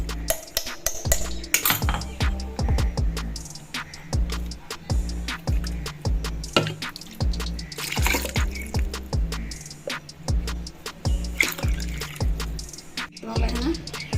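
Butter being washed and squeezed in a bowl of water while making homemade ghee, with steady wet sloshing, dripping and squelching, plus occasional clinks of utensils against the container, close and continuous.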